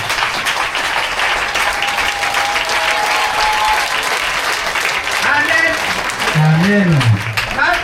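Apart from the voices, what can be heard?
congregation applauding and cheering for God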